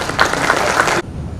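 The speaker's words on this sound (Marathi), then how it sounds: "तर या सगळ्यांनी एकदा टाळ्या वाजवून." An audience at a solar expo claps in a dense, continuous burst of applause for about a second before it stops abruptly, leaving quiet room tone.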